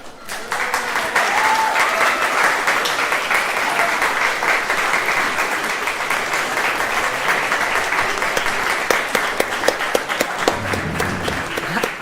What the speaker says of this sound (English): I add my thunderous applause to everyone involved